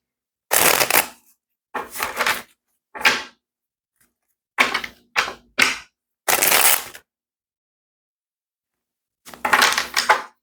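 Tarot cards shuffled by hand in several separate bursts, each a dense riffling rustle of a second or so, with quiet gaps between and a longer pause before the last burst; close and fairly loud, with no talking.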